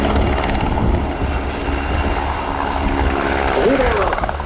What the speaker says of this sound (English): flying the camouflage Sokol, the number 2 in the formation, is Major Anthony Kostu PhD